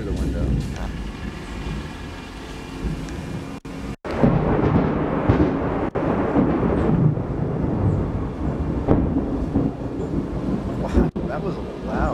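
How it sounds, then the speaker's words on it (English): Loud thunder rolls through a storm at home, a long rumbling roar that swells and booms for many seconds with sharp cracks along the way, while people exclaim and talk over it. "Wow, that was a loud thunder."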